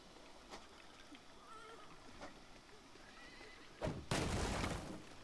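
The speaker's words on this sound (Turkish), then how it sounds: "Atı sakinleştiriyoruz arkada." A horse neighs and whinnies in the video game Trek To Yomi, quiet shuffling and faint calls at first, then a sudden loud burst near the end that stays strong for about a second.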